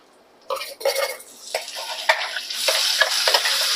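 Ground masala paste hits a hot ghee tempering for tomato rasam and bursts into a loud, crackling sizzle, then keeps frying steadily under intermittent stirring and pan clatter.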